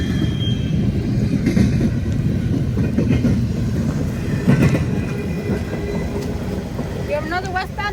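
A train rumbles steadily past on a railway in stormy weather, a continuous loud roll with faint clattering and a brief squeal near the end, while people talk over it.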